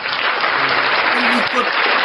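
Dense, steady applause from an audience fills the whole stretch, a continuous wash of many hands clapping at close range with no pauses.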